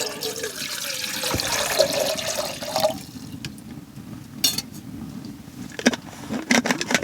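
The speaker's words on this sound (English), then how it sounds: "Put some water in the pot." Water is poured into a cooking pot at a hot-tent campsite, with a brief splashing fill early on followed by quieter clinks and handling noises nearby.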